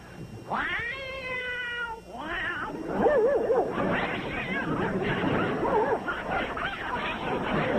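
A voice imitates a dog and cat fight: drawn-out yowls and meows give way to rapid, overlapping snarls, yips and caterwauling, loud and continuous.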